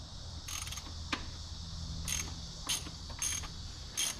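A 16 mm socket wrench works a bolt on a 1965 Datsun 320 pickup, giving quiet, repeated ratchet clicks in short spaced bursts over a low background hum.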